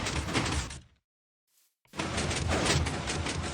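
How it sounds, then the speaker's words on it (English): A Minecraft redstone 3x3 piston door opens with a loud, dense mechanical burst. The burst cuts off into about a second of silence, then a second equally loud burst follows. "that looks like a classic 3x3 door to me"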